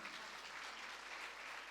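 A crowd at a religious discourse gathering claps steadily, a dense, even wash of applause heard from a distance at low volume.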